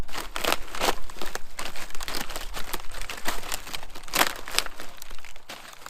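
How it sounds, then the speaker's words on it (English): Animal bones, including vertebrae, cracking and shattering as they are stomped on underfoot in an orchard, a dense run of sharp crunching, crinkling snaps close by, continuous with no talk. "I'm just going to stomp on it a little bit and break apart all these bones"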